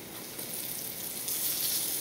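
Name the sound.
cheese-stuffed squash blossoms sizzling in a pan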